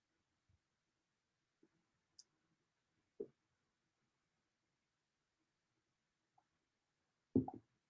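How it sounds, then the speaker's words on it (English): A computer mouse clicks while a custom page is being made on a website. A few sparse, sharp, isolated clicks sound against near silence, and the last one is louder. "and click create page."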